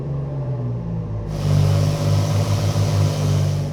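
A boosted 4.3L V6 engine runs on a dyno, steady and deep at first, then its rumble and pitch swell as it revs up and holds a loud, throaty drone.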